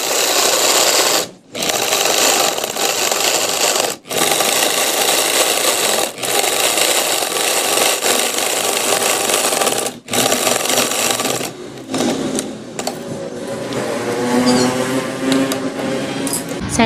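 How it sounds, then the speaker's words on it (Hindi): Sewing machine running steadily at close range, stitching the center seam of a boat neck, in long continuous runs with brief stops, then slowing and going quieter near the end. "तो सबसे पहले हम सेंटर की सिलाई लगा लेते हैं।"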